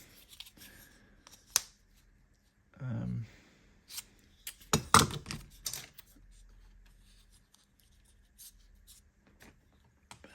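Close snips of scissors cutting a soft material for a 1:18 scale four-post model car lift, a few short sharp cuts scattered between quiet pauses, with a brief low rustle or voice-like burst in between.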